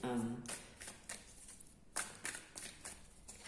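Tarot cards being shuffled in a few quick riffling bursts, close and fairly quiet, with a voice speaking softly at the start.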